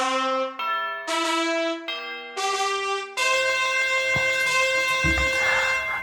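Four chiming bell strikes mark a book rating, each ringing tone sustained and decaying before the next, followed by a fuller, brighter cluster of overlapping bell tones with a low thud, loud and close.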